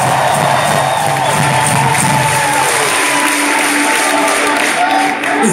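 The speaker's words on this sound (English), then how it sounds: "Give them a round of applause." Concert crowd applauding and cheering at a live rock show at The Warfield in San Francisco, a loud, dense roar of clapping, whoops and shouts filling the hall throughout.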